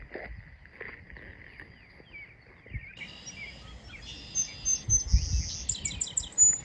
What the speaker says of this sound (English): That's a song sparrow.